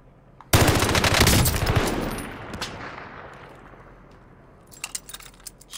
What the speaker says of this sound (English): You're shooting at somebody next to you.